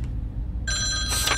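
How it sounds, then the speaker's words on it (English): An old-style telephone bell rings in an indie horror video game, with a sustained bright metallic ring that starts partway in, cuts out briefly and then resumes loudly, with no talking. "Oh, phone's ringing."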